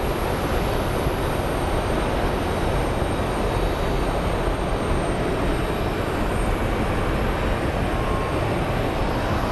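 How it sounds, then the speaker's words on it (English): An American Airlines jet arrives at Phoenix Sky Harbor airport, its engines a loud, steady broadband roar that holds without a break throughout. "So our final plane is the American Airlines coming in from Memphis."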